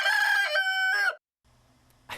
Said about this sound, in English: He's got the most glorious crow of any rooster I've ever heard